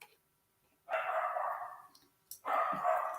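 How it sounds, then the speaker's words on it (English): A pet dog play-barks indoors in two separate bursts, each a short run of barks that is moderately close and heard alone with no talk. "I can hear my dog barking."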